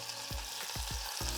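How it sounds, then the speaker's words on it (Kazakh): Sweet bell pepper frying in a pan over high heat, a steady close sizzle broken by several short scraping stirs of the spatula, about four strokes in quick succession. "Жиі араластырып, қатты отта қуырамыз."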